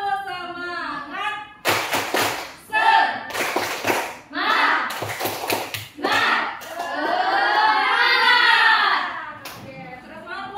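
An Indonesian class performs a spirited clap pattern in a classroom game, a series of loud rhythmic claps mixed with children's voices and a teacher talking.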